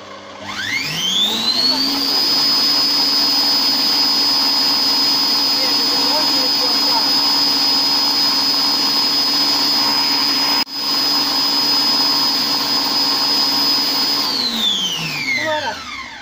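A Compact Cook Pro food processor runs its self-cleaning pulse cycle, the motor whirring loudly and steadily with a high whine, spinning up at the start and winding down at the end, running continuously without talk.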